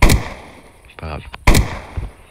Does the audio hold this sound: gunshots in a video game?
yes